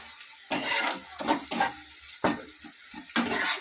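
Onions sizzle in a frying pan as a wooden spatula stirs them, four or five rhythmic scraping bursts over a continuous close hiss.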